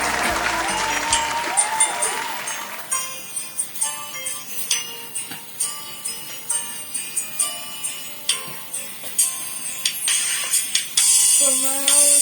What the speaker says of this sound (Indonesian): Yuk, sama-sama kita beri tepuk tangannya adik-adik buat teman kita.